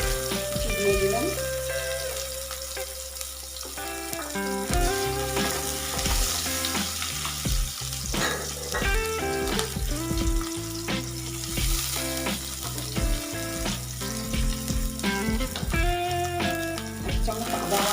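Onion frying in oil in a pan for a thin pabda fish curry, a continuous bright sizzle with frequent crackles, partly under background music.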